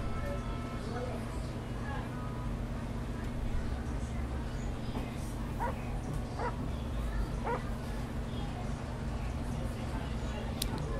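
A police K9 dog in the GTA V LSPDFR game gives a few short, faint barks over a steady engine-like drone, with a voice talking throughout.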